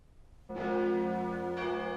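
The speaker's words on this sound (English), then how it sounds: "churches all over the north rang their bells backwards" A church bell rings out suddenly and keeps sounding, loud and resonant with rich overtones, a second strike adding brightness partway through.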